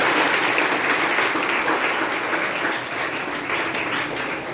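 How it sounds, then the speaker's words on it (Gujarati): A school audience at a World Yoga Day celebration gives a student a round of applause. The dense clapping holds steady and close, then eases slightly toward the end. "તો આપણે શુભમ માટે એકવાર જોરદાર તાળી પાડી દઈએ."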